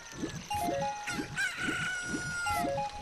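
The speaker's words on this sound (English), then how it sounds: "Look, a chicken hatched from the egg you were incubating." A freshly hatched chicken in Zelda: Ocarina of Time crows loudly and close, with clucking and a bright chiming game tone around it, and no voices.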